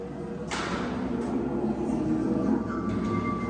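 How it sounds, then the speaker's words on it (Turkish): Low rumbling rail traffic with a few sharp metallic clanks as old nostalgic trams roll past nearby at a tram museum, with faint voices in the background. "çın çın tramvayların sesleri de geliyor"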